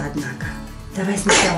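A young girl sneezes once, sharply, at a child's washbasin, with an adult speaking just before it.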